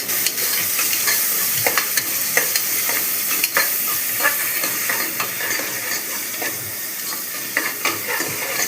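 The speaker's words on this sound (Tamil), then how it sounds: "போட்டுட்டு நல்லா வதக்குவோம். நல்லா வதங்கட்டும்." Small shallots stir-fried in a pan for a lung gravy, with a steady close sizzle and repeated sharp scrapes and clicks of a spoon stirring throughout, no talking.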